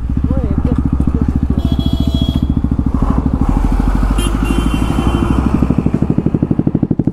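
A Bajaj Pulsar RS 200 BS6 motorcycle's exhaust burbles loudly and steadily while riding, a close rapid pulsing throb throughout, with a voice talking over it.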